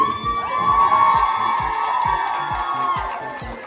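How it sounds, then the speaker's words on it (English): A crowd at a K-pop pop-up event cheers and shouts with excited whoops, a loud continuous roar with a steady beat of music thumping underneath. "So can I have a round of applause, please?"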